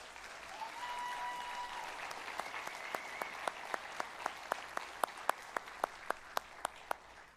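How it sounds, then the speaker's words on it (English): Audience applause at a sheriff's office awards ceremony: a broad crowd clapping that fades out, leaving one person's sharp, evenly spaced claps continuing alone and fairly close. "How about another round of applause for these individuals?"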